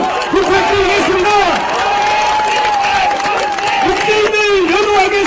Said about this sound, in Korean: 우리 문재인 대통령 후보께 여러분 뜨거운 박수 부탁드리겠습니다